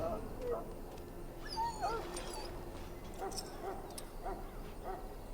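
A sick, injured dog in the Dragon Age Origins game gives soft high whimpers and short whines over faint background ambience.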